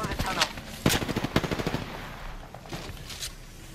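Automatic gunfire from a squad-based video game shooter, several rapid bursts of shots over a few seconds with a faint voice murmuring underneath, then the firing fades.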